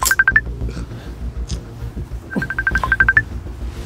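Phone call tones with quick bursts of repeated electronic beeps in two clusters, close and fairly loud, with faint background noise in between.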